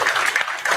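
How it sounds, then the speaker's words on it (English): A crowd of about a hundred people from a school and athletics community claps outside a courthouse, steady mid-level applause in a brief burst. "roughly 100 people from the school and athletics community clapped for Iwamoto"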